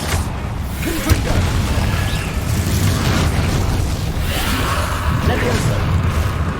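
A Confringo fire spell goes off during a Hogwarts Legacy fight, with whooshing booms and crashing bursts over a dense wash of combat noise, accompanied by spoken voices.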